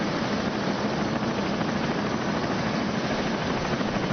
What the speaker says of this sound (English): a growing light in the sky reveals a helicopter is soon arriving